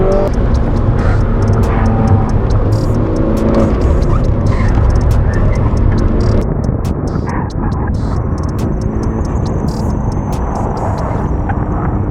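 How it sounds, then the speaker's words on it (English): A race car engine roars steadily at high revs with shifting pitch as it downshifts on a track at Slush Motorsport Fest 2022, loud and close, while someone talks over it. "I'm downshifting way too early in there."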